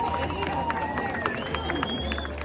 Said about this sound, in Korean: 해가 지면 동시에 이 많은 사람들이 다 같이 환호를 하면서 박수를 치는데요